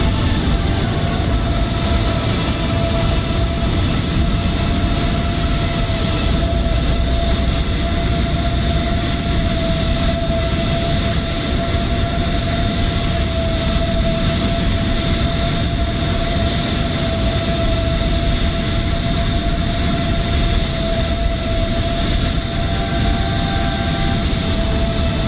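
Scoot A320neo jet engines in a flight simulator, a steady loud roar with a constant whine, unbroken for the whole stretch.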